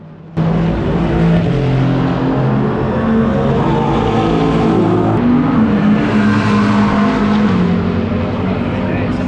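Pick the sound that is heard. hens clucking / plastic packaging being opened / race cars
race cars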